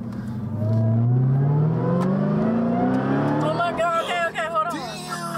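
A 2021 Dodge Charger Hellcat Redeye engine revs up, a loud, rising supercharged drone building steadily from inside the car, with people then talking over the settling engine.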